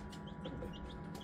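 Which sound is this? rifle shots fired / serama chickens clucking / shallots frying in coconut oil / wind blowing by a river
serama chickens clucking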